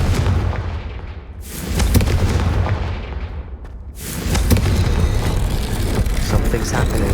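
Confringo blasting spell cast in Hogwarts Legacy, two loud booming fiery blasts a couple of seconds apart, each bursting sharply and rolling on with a crackling tail.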